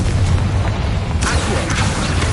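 A Confringo spell detonates in Hogwarts Legacy, a loud, rumbling boom with a burst of bright crackle partway through, sustained heavy low-end noise throughout.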